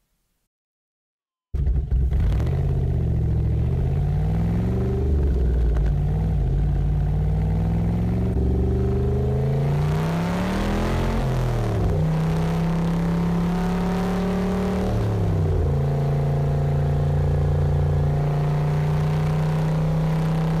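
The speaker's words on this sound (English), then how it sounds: "the exhaust just sounds so damn good. It really is intoxicating. It just sounds so angry." Superlite SLC sports car exhaust accelerating hard, a loud, close engine note climbing and dropping through several rising gear pulls with brief dips between shifts, continuous and uninterrupted by talk.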